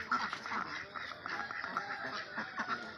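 A flock of farm ducks of mixed breeds, including Muscovy ducks, quacks repeatedly and close by. The calls overlap steadily in a noisy pen with no break.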